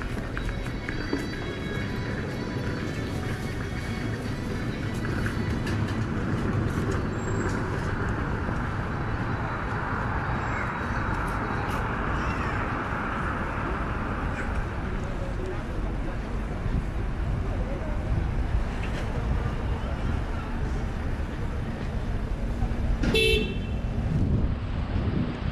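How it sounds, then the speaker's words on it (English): Light street traffic in Southall, West London, on a winter day: a steady broadband wash of passing vehicles and road noise, with a distant horn toot near the end and faint voices mixed in. "Very light traffic actually."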